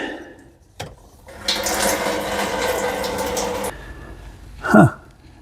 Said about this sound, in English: We're going to drain what fuel is in that separator out